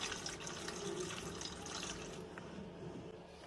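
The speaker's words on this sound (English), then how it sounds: "I'll just pour a bit of deionized water inside here" Deionized water pours into the tank of a steam iron, a quiet continuous trickle and splash that tapers off near the end.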